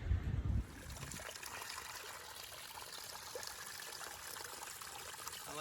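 Water trickling and splashing gently over rocks in a backyard pondless waterfall, a soft continuous babble heard alone after a brief low thump at the start.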